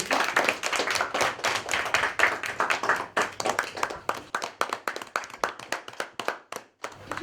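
Middle school classroom audience claps for two students about to present, a dense burst of hand claps that thins into scattered, uneven claps before fading near the end.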